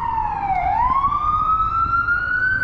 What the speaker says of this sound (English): That siren right now, that's how fire it'd be.